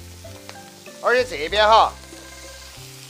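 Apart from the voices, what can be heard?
garlic sprouts being stir-fried in a wok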